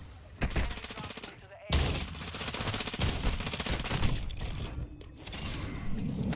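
Shotgun blasts in Warzone 2, a loud abrupt boom followed by a second heavy shot and a dense stretch of rapid gunfire and impacts, with someone speaking over parts of it.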